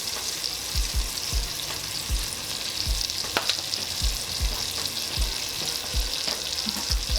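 Garlic and crushed red pepper flakes frying in a pan, a steady close sizzle broken by regular soft thuds and scrapes of stirring, no voices.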